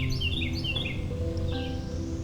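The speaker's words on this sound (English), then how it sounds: "Listening to the birds, the tufted titmouse," A tufted titmouse sings in a natural outdoor setting. Clear, close whistled phrases repeat over a low steady background, with no voices.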